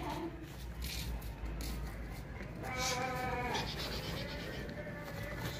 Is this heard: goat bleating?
yes